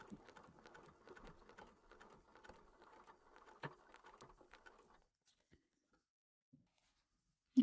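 A sewing machine stitches along quilt piecework in quick, steady bursts of rapid mechanical patter for about five seconds, close and fairly quiet, then stops, leaving near silence with a few small clicks.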